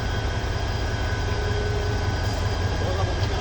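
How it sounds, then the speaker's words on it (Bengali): A passenger train pulling away again after a halt near construction work, its low engine and wheel rumble steady and loud throughout, close by and without clear talk. "এই যে আবার ছেড়ে দিছে ট্রেন"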